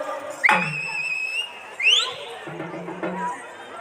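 An audience at a Karuppasamy Kummi song performance in Saibaba Colony, Coimbatore, blows shrill, rising whistles in encouragement, with several bright blasts over background voices and crowd chatter.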